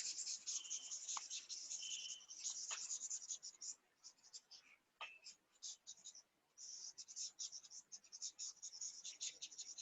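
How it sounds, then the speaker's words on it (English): A board eraser rubs away writing during a network theory lecture, making close, dry, scratchy wiping strokes in quick repeated bursts with short pauses between them. "Let me erase this."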